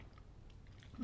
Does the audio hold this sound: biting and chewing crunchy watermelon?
yes